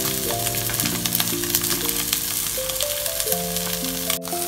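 Steady sizzling of tofu frying in a pan, a continuous crackle under background music with sustained tones.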